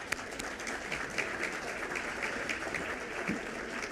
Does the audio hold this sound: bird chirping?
no